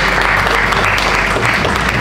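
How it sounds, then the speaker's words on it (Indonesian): A room full of people at a football association press event applauds loudly and continuously, a thick wash of clapping with a low steady hum underneath and faint voices mixed in. "Boleh minta tepuk tangan?"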